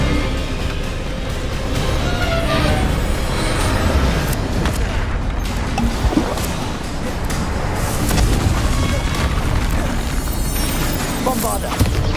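Repeated Bombarda blasting spells in Hogwarts Legacy on PS4 Pro, heavy booming explosions and rumbling debris layered over dense game music and effects, with a voice calling out spell names.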